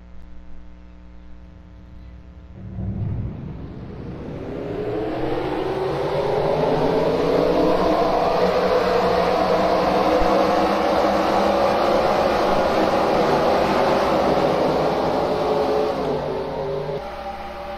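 Race cars in a racing video game's American Ethanol Series event at Riki Raceway pull away from the start together, a rising swell of engine whine that builds within seconds into a sustained, loud, layered drone and holds there.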